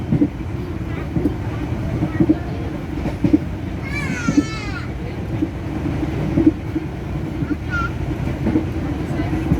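The Airlangga passenger train rolls toward Semarang, a steady low rumble of wheels and carriage noise with rhythmic clacks over the rails and a brief high squeal midway, heard from inside the train.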